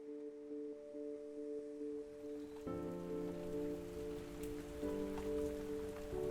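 Steady rain patters on a surface, a soft continuous hiss with tonal music sustained underneath.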